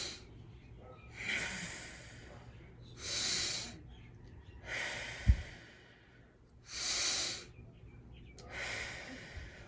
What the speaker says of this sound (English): We're gonna take a couple deep breaths.